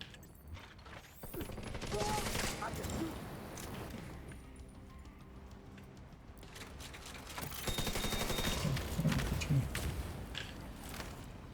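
An enemy turret fires in a shooter video game, giving irregular bursts of rapid gunfire with metallic clinks and mechanical rattling, moderately loud and rising and falling in waves.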